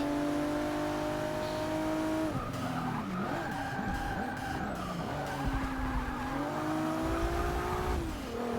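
A Mustang race car in Forza Motorsport 6 screams along with a steady high engine whine, gear changes and sustained tire squeal through skidding corners, loud and continuous with no talk.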